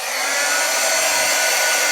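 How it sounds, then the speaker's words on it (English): A heat gun drying a mixed media canvas gives a steady, loud blowing whoosh with a constant fan hum, close by and unbroken, with no voices. "I think I might use the heat gun."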